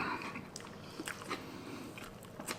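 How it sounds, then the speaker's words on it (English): Someone chews a mouthful of hard Corn Pops cereal up close, with crisp crunching bites at an uneven, slowing pace. "the chewing gets slower."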